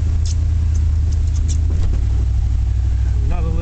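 A 1989 Chevrolet Silverado K2500 4x4 farm truck drives through snow, its engine giving a steady low rumble close by, with faint crunching and patter over it and a slight rise in revs near the end.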